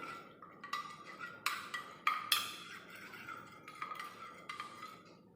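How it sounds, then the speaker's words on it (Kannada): A utensil stirs tomato juice mixed with another ingredient in a small bowl, giving several sharp clinks and taps against the sides in an irregular rhythm, close and fairly quiet, with no talking. "ಇದು ಎರಡನ್ನು ಮಿಕ್ಸ್ ಮಾಡಿಬಿಟ್ಟು"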